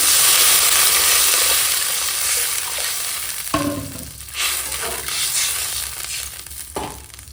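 Water hits a sizzling fried spice paste for a fish curry, a loud sustained frying hiss that surges and then settles into bubbling, with clattering stirs of a spoon in the pan.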